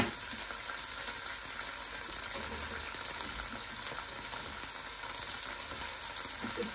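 Shrimp sizzles loudly in hot oil with fried onion, garlic, dried chili and spices, a steady, dense crackle running close and unbroken with occasional stirring scrapes.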